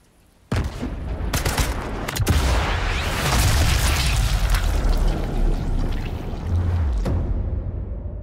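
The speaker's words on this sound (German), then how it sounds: "Na komm, Artillerie." Artillery barrage in Sniper Elite 5, opening with a sudden loud blast that rolls into a continuous, dense roar of explosions and rumbling impacts lasting several seconds, with sharp cracks at the start and near the end.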